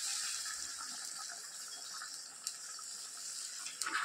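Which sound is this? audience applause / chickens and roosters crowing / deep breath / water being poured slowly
water being poured slowly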